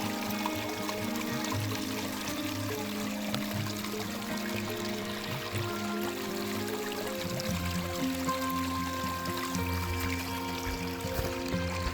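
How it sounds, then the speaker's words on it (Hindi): Natural spring water from the Zabarwan hills flowing steadily through the terraced Mughal fountains and channels of Nishat Garden, Srinagar: a continuous, even rush and splash with no pauses and no voices. "ये पीछे ज़बरवान पहाड़ियों से निकलते कुदरती झरनों का पानी है"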